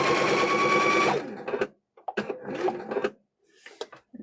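Home sewing machine stitching fabric for a kitchen hand towel, a steady close whirring run for about a second, then several short bursts of stitching separated by pauses as the fabric is turned.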